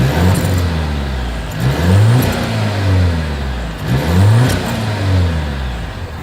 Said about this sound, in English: exhaust clip.